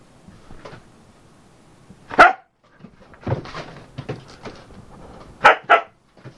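A Siberian husky barks in sharp, loud bursts, a couple of single barks then a quick double bark, with softer yips and whimpers between, no talking.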